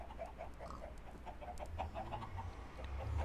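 Chickens clucking in Minecraft, repeated short clucks in a quick uneven rhythm over a low background hum, moderately close and unbroken.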